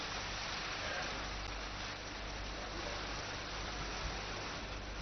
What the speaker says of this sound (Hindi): यहाँ बारिश आई है। 2 दिन से लगातार हो रही बारिश से यहाँ का तापमान जो है वो गिर गया है।